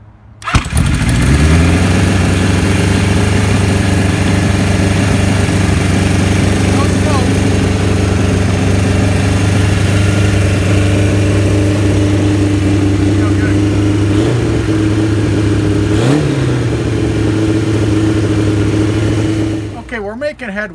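A 1975 Kawasaki Z1900 motorcycle engine cranks, catches and settles into a steady, loud, close idle with a brief blip of revs partway through, running continuously for about twenty seconds before cutting off.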